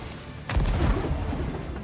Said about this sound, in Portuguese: Tem o efeito da bala de canhão normal.